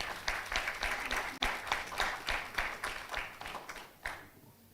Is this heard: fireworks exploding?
no